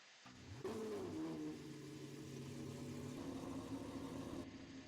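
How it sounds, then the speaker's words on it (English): A Lamborghini Revuelto's engine blips up sharply in a quick rev, then settles into a steady idle that continues until it cuts off near the end, heard from close by with no talking. "See some revs."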